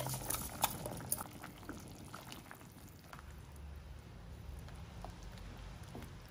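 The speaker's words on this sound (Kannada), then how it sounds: "ಮಸಾಲೆ ಚೆನ್ನಾಗಿ ಕುದಿ ಬರ್ತಾ ಇದೆ" Rice-filled tomato masala bubbling steadily in a pot, a continuous soft simmering hiss with a few sharper pops early on, heard close up and alone.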